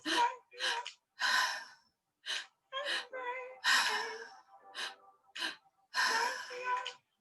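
Active breathwork in a guided session: a run of forceful, rhythmic breaths close to the mic, with sharp gasping inhales and rushing exhales separated by brief silences.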